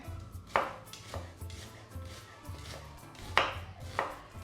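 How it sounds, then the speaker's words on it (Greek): A knife chops through onion on a cutting board in a few sharp, separated strikes with a low background hum between them. No one speaks. "ξεκινάω κόβοντας το κρεμμύδι"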